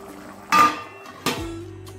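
A lid clatters onto a pan of papaya and potato curry, two sharp metallic knocks a moment apart, close and alone with a faint ring after the second.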